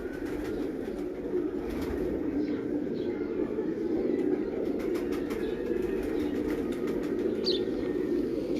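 Pigeons coo softly and repeatedly while wings flap in short bursts nearby, set against a steady background hum.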